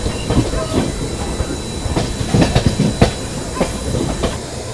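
The Shatabdi Express pulling into Agra station, with loud rhythmic clickety-clack of wheels over rail joints, a steady rumble and hiss from the moving train carriage, heard from onboard.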